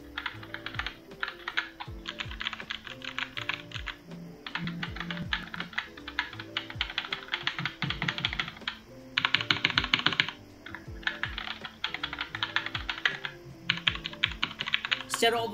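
Typing on a Cooler Master MasterKeys Lite L keyboard, a dense run of close clicky keystrokes in fast irregular bursts with brief pauses, loud and alone over a faint background tone.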